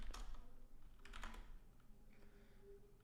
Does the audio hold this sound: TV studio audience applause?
no